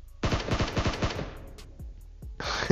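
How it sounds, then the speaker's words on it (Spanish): Gunfire in PUBG on the snowy Vikendi map: a rapid automatic burst of about ten shots fades out, then after a pause a few more scattered shots follow, fairly distant and with no talking. "Oh, acá escucho disparo."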